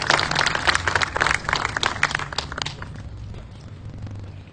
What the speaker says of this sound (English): let's give each one of you all a big round of applause